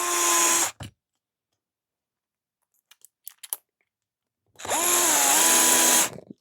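A power drill drives screws into an RC car chassis during assembly of a Reve-D RDX, two close whining bursts of about a second each, separated by near silence with faint small clicks and handling noises.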